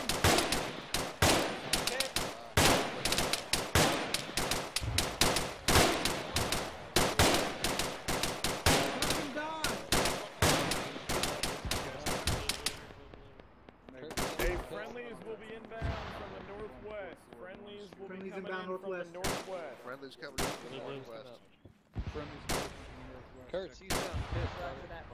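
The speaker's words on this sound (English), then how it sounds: "No, keep shooting, he's prone." Rapid gunfire rattles through a milsim operation, with dense repeated bursts that thin out into scattered shots, while voices call out over the shooting.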